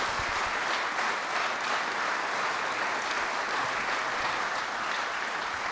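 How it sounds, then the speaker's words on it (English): Audience members at an energy independence executive order event give another round of applause. The clapping forms a steady, full wash of many hands that stays even for the whole stretch, without speech. "Would you give them all another round of applause?"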